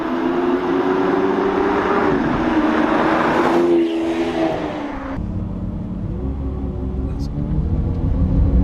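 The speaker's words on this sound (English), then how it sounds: "I can hear that V12 slowly warming up" A Lamborghini Aventador V12 engine drones steadily at a low idle while warming up, a muffled mechanical hum with a slight shift in pitch partway through.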